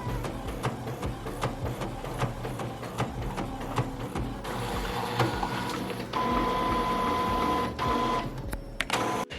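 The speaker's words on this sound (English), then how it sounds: "we'll get this inserted into the printer and then print it out." An inkjet-style printer feeds and prints album cover art up close, with rapid clicking, rhythmic carriage shuttling and motor whirs that settle into a steady mechanical hum near the end.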